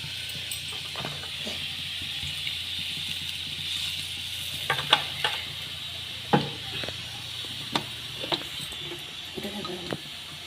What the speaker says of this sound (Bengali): জলটা কম হয়েছে, আমি আরেকটু জল দেব।